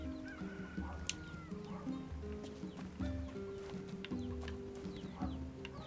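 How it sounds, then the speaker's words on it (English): Chickens cluck in a village in Nier Replicant, giving short repeated calls over soft background ambience and clopping footsteps, fairly quiet and close. "Hello, chickens."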